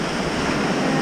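Continuous roar of sea waves washing onto the shore, steady and fairly loud with wind noise on the microphone, no talking.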